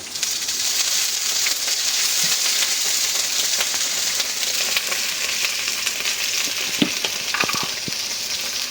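A splash of water added to a kadai of onion and green chilli frying in hot oil, producing a loud, continuous hiss and sputter with a few sharper pops near the end.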